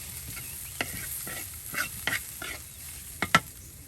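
Onion and garlic fry in oil in a rural village kitchen, a steady hiss under a series of sharp spatula scrapes and clacks against the pan, spaced irregularly and close by.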